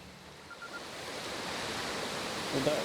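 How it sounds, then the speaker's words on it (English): Loud waterfall in the video game Outer Wilds, a steady broad rush of falling water that swells slightly toward the end. "Well, that was a loud waterfall."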